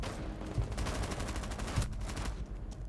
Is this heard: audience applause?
no